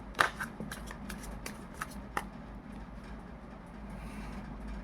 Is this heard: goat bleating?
no